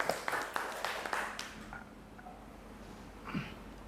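Classroom students give a short burst of applause for a classmate's answer, clapping for about a second and a half before fading into a quiet room with a faint voice.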